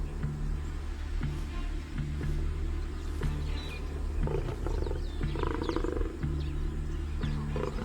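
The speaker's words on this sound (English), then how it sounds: "A lioness has appeared alarmingly close to the cubs." A lioness roars close to her cubs in the wild, with repeated deep, loud roaring pulses and rumbling carrying throughout over a low outdoor background.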